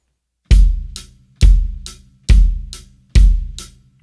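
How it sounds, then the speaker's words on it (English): Four-on-the-floor rock beat on a drum kit: a bass drum lands on every beat, with snare and hi-hat layered in, four loud, regular strokes ringing out close and clear, without any voices. "Our next beat is our 4 on the floor rock beat."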